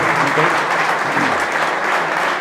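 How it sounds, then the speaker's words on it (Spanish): Church congregation claps loudly and steadily in a dense, continuous wave of applause at a Pentecostal Sunday morning service, with voices faintly mixed in. "Dar ese fuerte aplauso a nuestro Dios en esta mañana."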